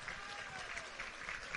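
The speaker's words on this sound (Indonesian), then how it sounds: "Tepuk tangan untuk NU" An audience at a religious gathering breaks into applause for NU, a quiet but steady wash of clapping held throughout, with murmured voices beneath.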